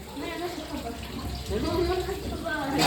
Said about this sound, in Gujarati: પાણી નહોતું જાતું અત્યારે જાય છે પાણી